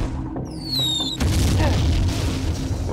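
Mortar firing in the Jagged Alliance 2 video game, a single loud boom about a second in that leaves a dense, rumbling wash lasting to the end, after a brief whistling tone.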